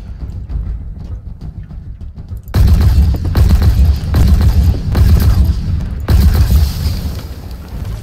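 Enemy alien weapon fire in the video game Halo Infinite, a quieter rumbling start and then loud repeated bursts of booming shots in clustered volleys.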